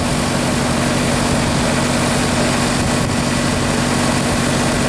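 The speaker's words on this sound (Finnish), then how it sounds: "moottori on kunnossa" Diesel engine of an asphalt spreader idling steadily at close range, a loud, constant low rumble with a broad mechanical roar and no voices.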